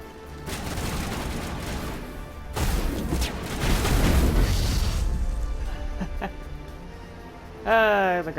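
A grenade blast in the video game Mass Effect, a heavy rumbling boom with crackling debris that swells and lingers for several seconds, followed by a brief electronic warble at the end.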